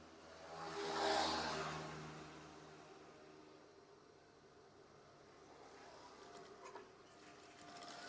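A sewing machine stitching curtain fabric, a brief whirring run near the start that rises and fades, then quieter mechanical ticking and soft clicks.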